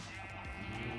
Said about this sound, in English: Building, by the way, near sheep. Oh man, they make a lot of noise.